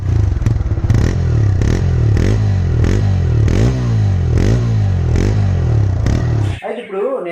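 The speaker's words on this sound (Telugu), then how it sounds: "ఎక్కువ మంది రైడర్స్ లైక్ చేసేటటువంటి ఎగ్జాస్ట్ నోట్ అయితే ఈ బైక్లో వినండి" A red TVS Raider motorcycle's exhaust note in a showroom setting, a loud steady low engine drone with rhythmic revving pulses about once a second, cutting off abruptly near the end as the engine stops.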